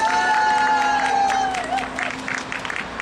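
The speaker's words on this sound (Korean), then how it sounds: "정명훈 동지께 다시 한번 크게 박수 부탁드립니다." A crowd at a protest cultural rally gives applause for comrade Jeong Myeong-hun, a short burst of clapping that thins out over a few seconds, with a voice and a lingering tone over it.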